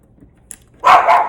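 A Pomeranian dog gives a short, loud bark up close after a brief faint sound, with no talking.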